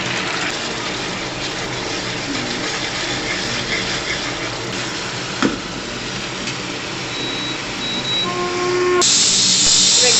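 Ginger, garlic, green chili and tomato paste sizzles loudly in a hot pan as a steady, close hiss, with a sharp clatter midway and a brighter burst of sizzling near the end.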